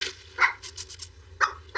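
Dogs bark indoors in a few sharp, close, moderately loud yaps spaced across roughly two seconds, with no voices over them.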